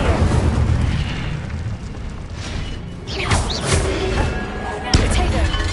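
A fiery Incendio spell blast from Hogwarts Legacy bursts out in loud booming flares over a constant rumbling bed of game noise, with a sharp hit near the end.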